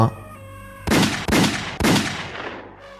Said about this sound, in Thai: เสียงปืนแผดเสียงติดต่อกันสามนัดซ้อน